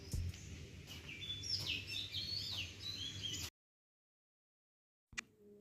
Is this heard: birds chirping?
yes